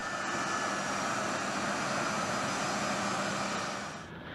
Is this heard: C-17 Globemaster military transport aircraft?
yes